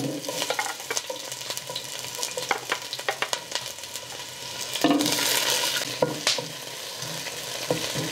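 Onion and chile perón frying in a clay pot of hot oil, a busy crackling sizzle with frequent scraping stir strokes and utensil knocks, swelling into a louder hiss midway.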